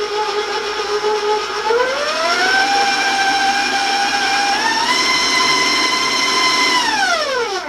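An electric mixer beats shortbread dough with vanilla, its motor whine loud and close, pitch rising as speed increases and later sliding back down near the end.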